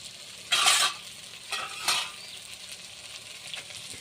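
A spoon stirs fish curry in a frying pan over a low, steady sizzle. Two or three scraping bursts come close and fairly loud, then trail off into the frying.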